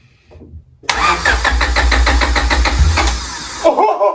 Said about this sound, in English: let's see if it cranks now